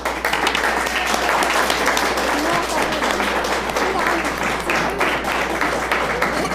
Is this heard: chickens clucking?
no